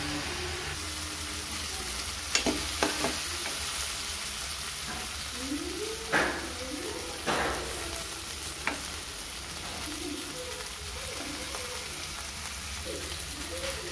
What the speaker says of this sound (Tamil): வெங்காயம் தக்காளி வதங்கினது போதும்.